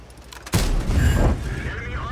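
Tank cannon firing in World of Tanks from a T25 AT tank destroyer, a single heavy boom with a sharp onset that rumbles and decays over about a second and a half under a quieter game soundscape.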